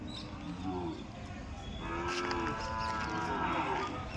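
Dairy calves moo repeatedly amid a busy Sunday livestock market in Kodad, low drawn-out calls overlapping with crowd chatter and general outdoor noise.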